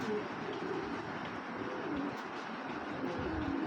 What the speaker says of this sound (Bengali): অরিজিনাল বেলজিয়াম কবুতরের বাচ্চা